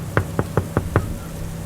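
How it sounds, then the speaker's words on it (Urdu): Five evenly spaced knocks on a car window, rapping in quick succession over about a second, close and sharp against a low rainy hiss, then quiet background. "اچانک کوئی باہر سے ونڈو کھٹکھٹانے لگا"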